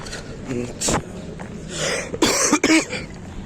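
Several sharp coughs from a person with a lingering virus burst out close by, a couple in quick succession, amid soft rustling and background noise.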